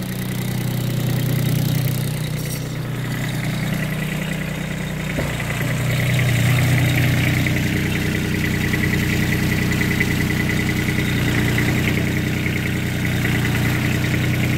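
2012 Ditch Witch JT5 directional drill diesel engine, warmed up and running close by with a steady heavy rumble that swells slightly in pitch and loudness partway through, with no talking.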